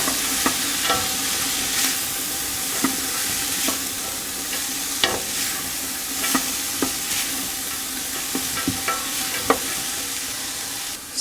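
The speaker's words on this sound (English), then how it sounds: "Sweat the vegetables on low heat without browning them in order to melt them down for about 8 minutes." Vegetables and mushroom trimmings sweating in a pan over low heat for a fish stock, giving a steady soft sizzle under repeated scraping stirs spaced every second or so, close and moderately loud, with no voices.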